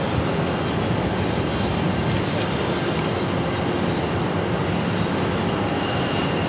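A JetBlue Airbus A220-300 at Boston Logan produces a broad, steady engine roar that stays loud and constant throughout, with no voices.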